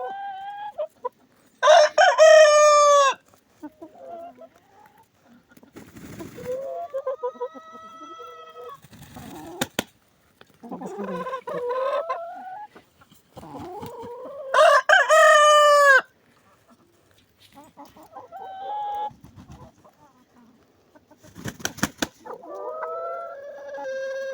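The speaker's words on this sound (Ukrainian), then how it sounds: "Давай кричи, півник." A rooster crows loudly several times nearby, with strained, drawn-out calls broken by clucking and other barnyard noises in between.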